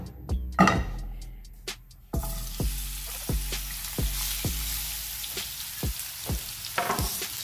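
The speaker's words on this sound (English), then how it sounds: "So you add your oil, make the pan hot, then you add in the mushroom and the onions at once." Mushrooms and onions sizzle in hot oil in a pan over high heat, with a steady frying hiss and a run of sharp clatters and knocks from stirring, no talk.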